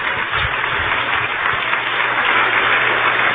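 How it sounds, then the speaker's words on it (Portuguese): Church congregation clapping at a worship service, a dense, continuous wash of applause at close range, muffled and lacking high tones, without a break for its few seconds. "Vamos aplaudir o Senhor Jesus."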